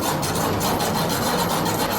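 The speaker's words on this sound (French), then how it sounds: "Voici ta scie à métaux" A hacksaw drags steadily back and forth across steel chain links, a dry rasping scrape repeating in quick even strokes, close and continuous for the whole stretch.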